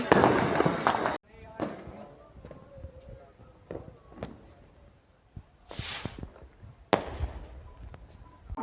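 Diwali firecrackers go off at night in a village, a loud burst opening into scattered sharp pops and a couple of bright cracks later on, with people talking in between.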